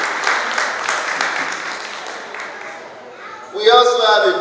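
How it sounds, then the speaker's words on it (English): A crowd at a Yoruba Day 2018 gathering claps in a brief round of applause that fades out before a voice speaks over a microphone. "Can we give him a round of applause, please?"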